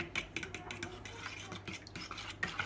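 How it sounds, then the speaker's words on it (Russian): Ordinary fork stirring egg yolks in a bowl for an omelette, a quick, busy run of light scraping and clinking strokes at close range, with no voice. "А просто возьму обычную вилку и обычной вилкой перемешаю это все"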